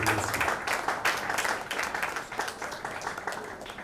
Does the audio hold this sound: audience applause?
yes